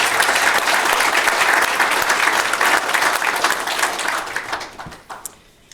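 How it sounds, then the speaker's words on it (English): An audience at a public policy and economics forum gives a loud, sustained round of applause, a dense wash of clapping that holds steady before thinning out and fading near the end. "So let's give Eastern a big round of applause"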